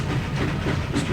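Skull train rolling along in the video game MediEvil, a steady rumbling clatter with rhythmic clicks that stays fairly loud and constant throughout, with no voices over it.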